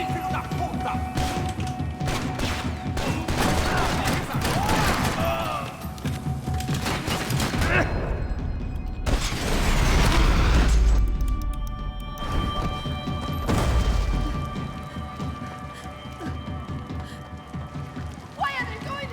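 Sustained volleys of gunfire in a Max Payne 3 shootout, with rapid shots, thuds and crashing impacts rolling for many seconds, loud and close, with frantic voices shouting over the fire.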